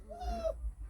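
A cat gives a single short meow, nearby and moderately loud, over a low rumbling background with no speech.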